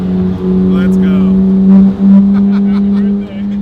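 A rebuilt crashed supercar's engine drones steadily from inside the cabin while driving, a loud sustained low hum with a brief dip in pitch midway, and people talk over it.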